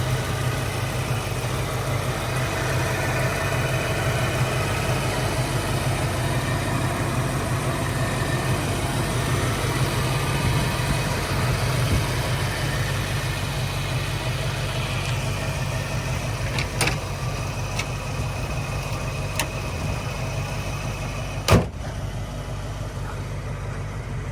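A 1987 ASC McLaren Mustang convertible's engine idles with a steady low rumble throughout, with a couple of faint ticks and a brief click near the end.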